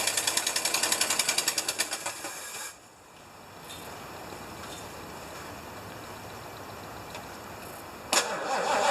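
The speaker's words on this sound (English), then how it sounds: "I think it's trying to run off the carburetor." A 1975 Lincoln Continental cranks with a rapid rhythmic starter chug, then catches and settles into a steady running engine before a brief blip near the end.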